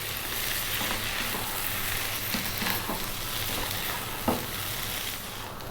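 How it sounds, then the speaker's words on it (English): Indian-style potatoes frying with chili, cumin and coriander hiss in a constant sizzle while being stirred nonstop, with occasional spoon scrapes and a sharper clack near the end, and no speech. "Now keep stirring all the time now for 3 minutes."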